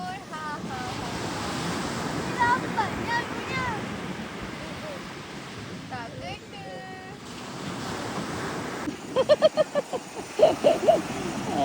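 Sea waves wash onto Punggai beach by Rustika Campsite with a steady surf roar and wind buffeting the microphone, while voices and birdlike chirps come and go over the rushing water.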